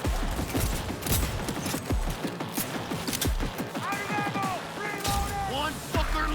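Rapid pistol gunfire in the video game Cyberpunk 2077, crisp shots cracking out in quick irregular bursts during a heist firefight, with tonal game sounds and effects mixed in.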